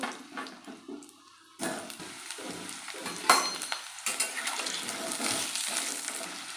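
Potatoes hit hot mustard oil in a wok, the sizzle jumping up suddenly and then holding as a loud, steady crackle with stirring scrapes.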